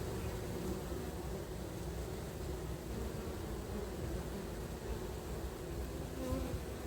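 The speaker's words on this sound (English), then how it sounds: "Flapping their wings, trying to cool the hive down." Honey bees bearding at the hive entrance and fanning their wings to cool it; a dense, continuous buzzing drone from many insects close by, steady and unbroken throughout.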